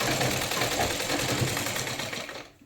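Sewing machine running steadily as it stitches the waistband of a Rajputi kalidar lehenga, a continuous close whirring hum that slows and stops at the end.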